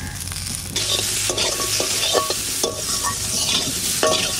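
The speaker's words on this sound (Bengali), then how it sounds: "ওই কড়াইতেই আলু কাটা দিয়ে দিচ্ছি" Potato pieces fry in a wok in village-style cooking, giving a steady, close sizzle broken by repeated scraping strokes as a spoon stirs them.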